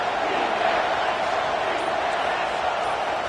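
Loud, dense stadium crowd roaring steadily at a football game on third down as the home fans cheer on the defense, a continuous wall of noise with no pauses.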